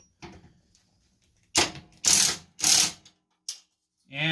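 Ratchet wrench working a bolt loose on a John Deere LA105 lawn tractor transaxle, a few short bursts of close, loud clicking separated by brief pauses.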